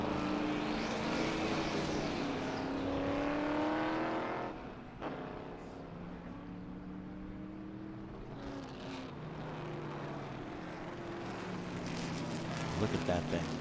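Historic Trans Am race cars at Sebring roar past, engines rising and falling with gear changes and fading passes, heard at a distance beneath a commentator talking.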